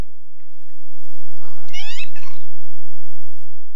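Cat meowing, a single clear drawn-out meow close by, then a short second cry, over quiet background hiss.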